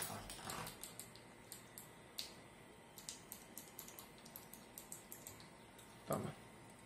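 A Redragon mechanical keyboard with Blue switches gives off a quick, fairly faint run of crisp clicks in a near-regular rhythm, with one louder clack toward the end.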